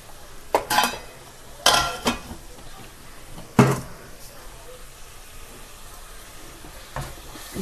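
A spoon scrapes and clanks against a cooking pot while spices and salt are mixed in. A few sharp metallic knocks come at irregular intervals over a soft, steady background.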